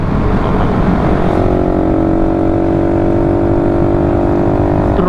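A borrowed Kawasaki-style K56 motorcycle engine runs steadily close by, a loud continuous mid-pitched drone with harmonic hum that holds level throughout with no clear rev peaks, alone without voices.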